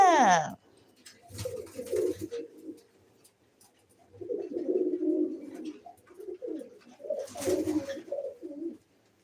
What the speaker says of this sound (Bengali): এগুলো আমাদের শখের কবুতর